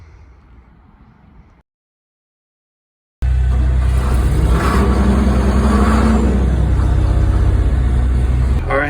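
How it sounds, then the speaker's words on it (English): A truck fully loaded with cow manure drives past at night, its engine a loud, steady, close rumble that starts abruptly after a moment of silence and holds to the end. "My dad was driving through here with the truck because that thing is fully loaded with cow manure"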